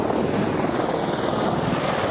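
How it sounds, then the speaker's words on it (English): Mi-28 Night Hunter attack helicopter flying at an air show, a loud, steady rotor and turbine roar with a dense chopping texture that stays constant throughout, with no voices. "This helicopter is like an owl. It hunts at night, and that's why it's been called a Night Hunter."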